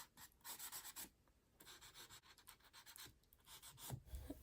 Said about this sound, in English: as much as I love the sound of this pastel on paper